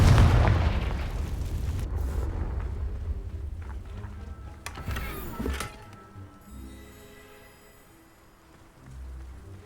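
A Confringo fire-blast spell cast in the Hogwarts Legacy video game near a crumbling tower: a loud booming blast up front, a sharp bright burst around mid-clip, then rumbling debris and game ambience fading out.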